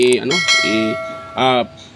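A notification bell sound effect rings out in a few bright, ringing chimes with distinct pauses between them, clear and close with no speech over it.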